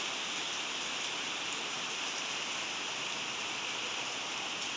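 Steady rain falling outdoors on a hot day, an even, continuous hiss with no breaks or voices.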